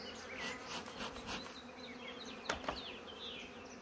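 Honeybees hum in a steady, busy drone close by at an open hive, with a few brief louder buzzes as individual bees pass near.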